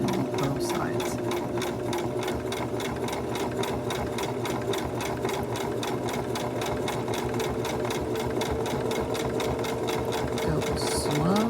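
A sewing machine zigzag-stitches coils of rope into a rope bowl, its needle hammering steadily and quickly at an even, moderate level the whole time, with no pauses.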